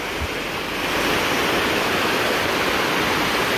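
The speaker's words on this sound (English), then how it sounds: "Top of the falls, my guys." Dunn's River Falls roars at the top of the falls with a dense, steady wash of rushing water that fills the whole clip, close and loud with no talking.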